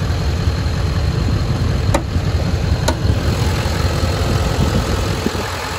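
A Chevrolet Silverado 2500 HD LTZ crew cab 4WD diesel with a deleted exhaust and cold air intake idles close by, giving a dense, steady low rumble with a faint hiss and two brief sharp clicks.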